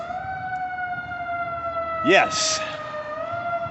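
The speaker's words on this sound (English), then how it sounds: "the sirens are going off on Old Plainfield Avenue in Grand Rapids" Emergency vehicle sirens wail steadily at a distance outside on Old Plainfield Avenue in Grand Rapids, holding a sustained tone while a person says a short word briefly in the middle.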